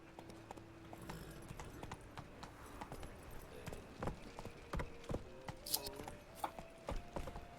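Rhythmic clip-clop of horse hooves in The Witcher 3, fairly faint and close, with a steady footfall pattern and small jingling tack sounds, no talk.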